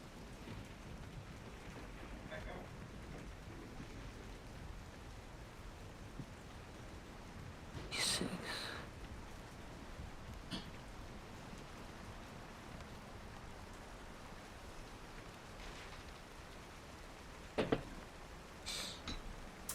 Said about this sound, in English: I will just be sitting here enjoying the relaxing rain noises until then.